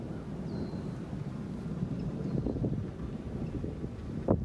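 Wind gusting across an outdoor military rifle shooting range under a darkening, stormy sky, a steady low rushing roar buffeting the microphone, with a brief sharper gust or thump near the end.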